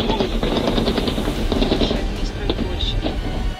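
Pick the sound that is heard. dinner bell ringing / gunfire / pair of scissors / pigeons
gunfire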